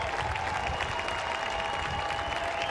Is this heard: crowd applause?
yes